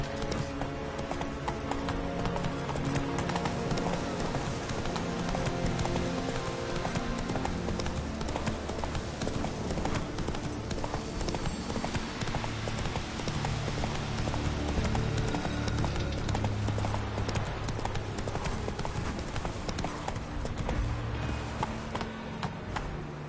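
Video game horse Roach galloping, with rapid rhythmic hoofbeats drumming continuously under a background music score, along with an occasional faint whinny.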